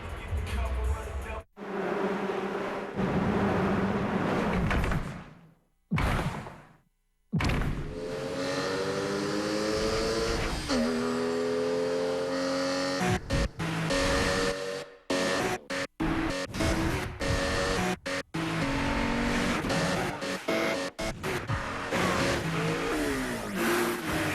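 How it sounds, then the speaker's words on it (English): A Porsche Boxster engine revs loudly in a TV commercial, rising and falling through several sustained pulls with brief gaps, backed by music-like tonal layers throughout. "Perfectly tuned, the all-new Boxster. Porsche, there is no substitute."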